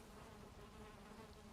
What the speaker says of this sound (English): here are the bees stuck down on the ground